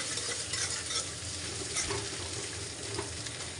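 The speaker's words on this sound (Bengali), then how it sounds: "এটাকে একটু নেড়ে ছেড়ে নেবো" Egg and boiled potato are stirred around a frying pan, giving a dense, continuous sizzle with a faint rustle of scraping underneath, fairly quiet and without speech.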